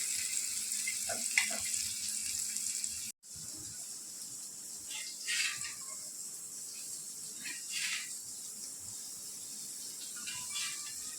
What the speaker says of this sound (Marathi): आता आपण ह्यांना थोडंसं फ्राय करून घेऊया